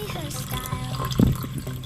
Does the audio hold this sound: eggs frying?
no